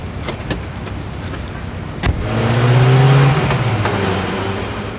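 A car engine starts up and pulls away after a door-like thump, its rising engine tone swelling close by and then easing off as it drives off.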